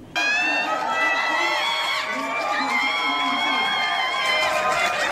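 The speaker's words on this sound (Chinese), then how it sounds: "现场亲友加油团立刻为他们送上欢呼" A crowd of relatives and fans cheers and whoops continuously at an airport as a returning youth baseball team appears, with loud shouting voices layered over each other for the whole stretch.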